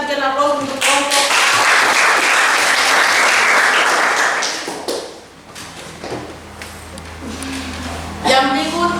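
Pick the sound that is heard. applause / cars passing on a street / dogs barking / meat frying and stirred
applause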